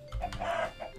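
A Minecraft chicken clucks in a quick, close burst of short squawks over about a second, struck by lightning in the game.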